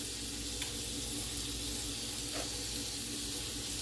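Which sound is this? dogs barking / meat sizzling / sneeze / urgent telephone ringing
meat sizzling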